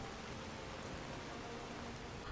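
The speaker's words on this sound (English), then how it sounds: "Hopefully, the rain will cease when we get there." Steady rain falling in the video game Skyrim, a dense continuous hiss of drops with no pauses, loud and alone with no talk.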